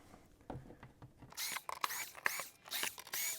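Screws being undone on the rear cover of a Mini Cooper R53, with a quiet start and then repeated whirring, clicking tool bursts up close, like a power driver or ratchet backing the screws out.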